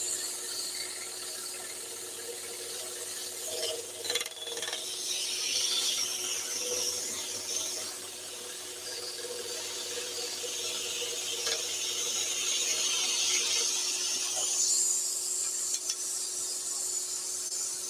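A scroll saw buzzes steadily and rapidly while cutting a wooden fox puzzle, close up, with a fine rattling chatter of the blade and small pieces jiggling on the table; no talk.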